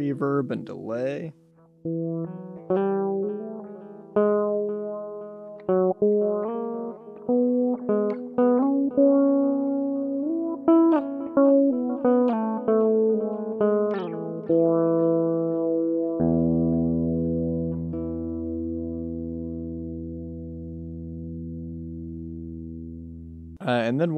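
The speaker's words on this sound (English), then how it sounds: "We can go through a reverb and delay." Elektron Syntakt synthesizer playing a sequence of plucky, pitched notes through reverb and delay, echoing repeats trailing off each hit before a sustained low chord drones; a voice briefly talks at the start and end.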